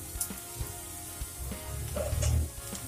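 Carrots, onions and capsicum fry in a pan over medium heat, a soft sizzle with scattered light clicks that swells briefly into a louder stirring rustle.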